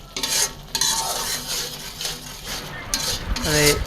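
A spice paste of chilli powder and masala is stirred and fried in a pan, with repeated metal spatula scrapes and clinks over a continuous sizzle, loud and close.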